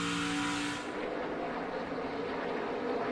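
NASCAR Camping World Truck Series Toyota Tundra race trucks roar around Pocono Raceway, a loud engine whine sweeping past and fading into a steady broad rumble of the field.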